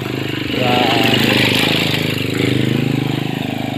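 A motorcycle moves along a wet, muddy hillside trail, its mid-pitched engine rising in loudness and then easing off as it passes close by over a few seconds.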